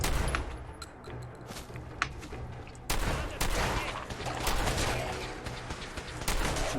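Gunfire from a ghoul fight in Fallout 4's Far Harbor expansion, dense bursts of shots and blasts that thicken into a sustained, loud volley after the first few seconds, with faint talk underneath.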